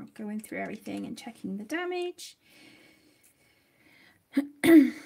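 A single sharp sneeze bursts out near the end after a stretch of someone talking and a quiet pause, close and loud.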